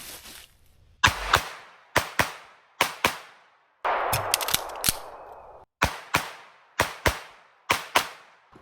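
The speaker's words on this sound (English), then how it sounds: "So I'm gonna do the 6 rounds when I do the Michael Jackson spin, mag change, and 1 on each target" Pistol shots at an outdoor range drill: sharp close reports in quick pairs and singles, a brief rattling pause mid-string, then more evenly spaced shots, with no talking.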